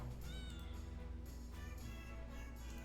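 Cats meowing in a tabletop role-playing game scene, a steady run of high, wavering meows over a low droning background, fairly close and clear without speech.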